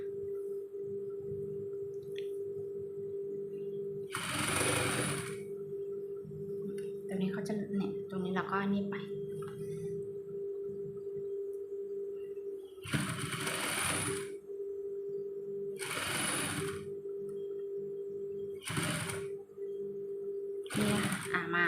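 A sewing machine stitches a curved hem on a tube-skirt sarong cloth in several short whirring bursts separated by pauses, over a steady background hum, with quiet talking between bursts.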